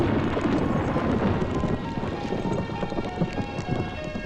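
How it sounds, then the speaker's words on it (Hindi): Thunderstorm with steady heavy rain, a dense continuous wash of falling water with low rumbling underneath, fairly close and loud throughout, no voices. "कमाल का तूफान आया यहाँ।"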